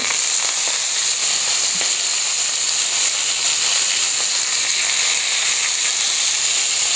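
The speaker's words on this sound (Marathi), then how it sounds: "आता आपण ह्याच्यामध्ये मेथीची भाजी घालणार आहोत" Fenugreek (methi) leaves go into oil where garlic has been fried until reddish, producing a loud, steady, close hiss and sizzle that continues throughout with faint crackles.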